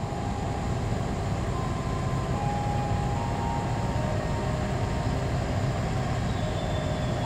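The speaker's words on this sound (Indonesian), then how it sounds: "Kereta Argo, kereta Lodaya di jalur 2 siap diberangkatkan menuju ke stasiun Solo Balapan." A steady, loud rumble of the Lodaya train at Cibatu station, Garut, West Java, a continuous low roar with faint high tones drifting above it and no talking.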